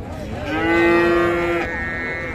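A calf or young bull at a rural cattle market gives a single loud, close moo lasting about a second, with faint crowd noise in the background.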